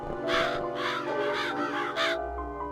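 Crow cawing in the video game Psychonauts: five loud, raspy caws in quick succession close by, over a steady low background hum that continues briefly after the last call.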